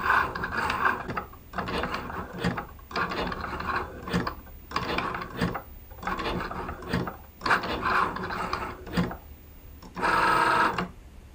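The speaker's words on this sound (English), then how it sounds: "Cricut Joy is going to draw on the inside of my card" A Cricut Joy cutting machine drawing a greeting with a pen on the inside of a card, whirring and ticking mechanically in repeated short bursts with brief pauses, close and steady.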